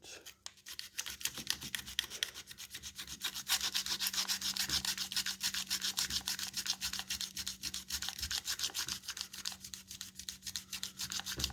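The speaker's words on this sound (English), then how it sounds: "So we'll sand on it a little bit more, and hopefully that'll do it." Steady rubbing of 220-240 grit sandpaper against an engine main bearing, a fine, continuous scratchy rasp with quick back-and-forth strokes, close and fairly quiet throughout.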